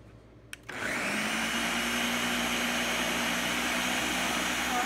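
A kitchen blender purees figs and real strawberries for a fig preserve, switching on after a brief quiet moment and then running with a loud, steady whir until the end.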